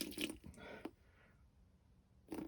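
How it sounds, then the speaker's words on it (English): Water is added to punch crumb fishing groundbait, giving soft wet squishing and splashing in brief bursts, quiet and close, with a pause in the middle. "Right, so I'm going to add a bit of water."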